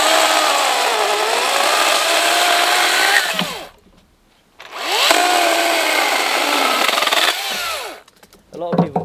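A power saw cuts up wooden offcuts for firewood in two long, loud, whining bursts with shifting pitch, separated by a short quiet gap, then a brief clatter at the end.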